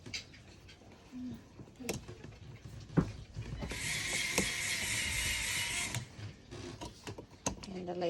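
A ratcheting lazy man screwdriver drives a screw while an old electrical receptacle is being changed out, giving a steady close mechanical whirring and clicking for about two seconds, with brief knocks and handling noises around it.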